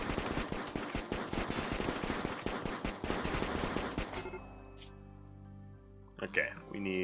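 Rapid gunfire crackles in the video game RimWorld as colonists shoot at one of their own. Dense volleys rattle for about four seconds, then fade into a quieter tail with a few faint pops.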